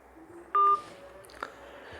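A single push-button telephone keypad tone while placing a call: one short, steady, fairly loud beep standing out from a faint room background.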